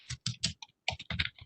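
Someone types printf-style C code on a computer keyboard, a short quick burst of close, crisp keystrokes in an uneven rhythm with no voice.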